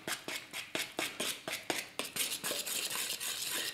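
Flour is stirred into a wet slurry for pizza dough, a steady rhythmic scraping and clicking of utensil against bowl, about three strokes per second, close and fairly quiet.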